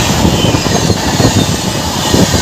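Two express trains, the Azad Express and Coromandel Express, run side by side in parallel, giving a loud, continuous rumble of wheels and engines with steady rail noise throughout and no talking.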